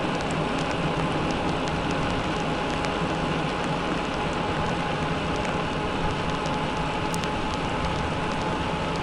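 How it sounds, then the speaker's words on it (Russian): Steady, dense roar of heavy rain pouring without a break, loud and close, with occasional sharper drop hits. "под сильный дождь поехал."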